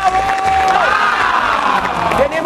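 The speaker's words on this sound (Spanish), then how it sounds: "¡Un aplauso!" Cheering and applause from the studio audience of the Colombian children's TV show Diverti2 on Telecafé, a loud, continuous crowd roar with shrill whistle-like tones riding over it.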